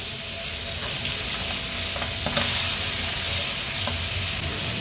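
Hilsa fish pieces fry in a pan with a steady, close sizzle, while spatula scrapes and taps mark the pieces being flipped one by one, and the hiss swells after each turn.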